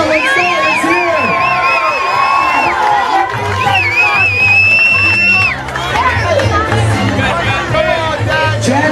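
A crowd at a sausage eating contest during St. Anthony's Festival cheers and whoops loudly and continuously, with shouting voices and an announcer talking over the din.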